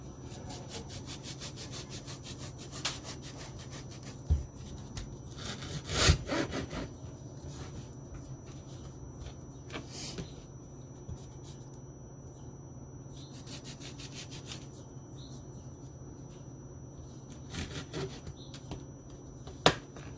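A knife cuts through a frozen aloe vera leaf, giving repeated crunchy scraping strokes and snapping cracks, fairly close but faint, with a sharper crack at the very end.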